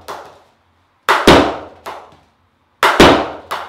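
Princess SG9 field hockey stick striking a ball with sharp, loud cracks, two pairs of close hits each followed by a short ringing decay, heard alone.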